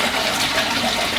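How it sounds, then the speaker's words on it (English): A small-volume flush of a Japanese toilet in a home bathroom: steady rushing water swirling down the bowl, close and fairly loud, with no talking over it. "I'll do a small flush to not use too much water."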